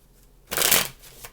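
Tarot cards shuffled by hand in one quick, close riffle burst lasting about half a second, then softer settling rustles with no talk.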